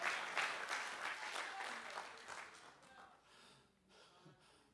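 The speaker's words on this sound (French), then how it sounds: "Applaudissons ça." Applause from a church congregation during a sermon, dense clapping at first that thins and fades toward the end, with faint voices mixed in.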